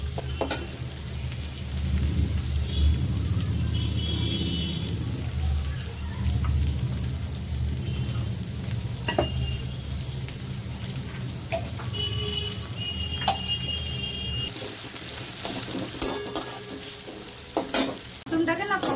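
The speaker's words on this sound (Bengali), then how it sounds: "পেঁয়াজটাকে ভালো করে আমি লাল লাল করে ভেজে নেবো।" Onions fry in a pan until browned, with a continuous strong sizzle and low rumble, occasional stirring clicks, and a brighter, splashier hiss near the end.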